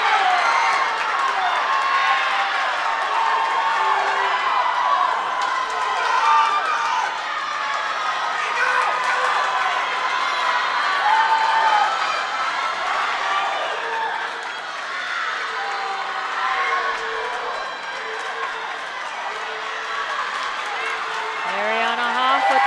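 A crowd cheers at a girls' high school swim meet between Moorhead and Sheyenne, a steady indoor roar of voices with whoops over the whole stretch while an announcer talks throughout.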